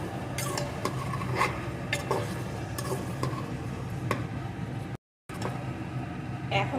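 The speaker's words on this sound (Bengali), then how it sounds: "এখন একটু নাড়িয়ে এক দু মিনিট জাল করে নেব" Vegetable khichdi with a spoon of ghee is stirred in a pressure cooker, with metal spoon scrapes and clinks against the pot over a soft background sizzle and a brief silent gap near the end.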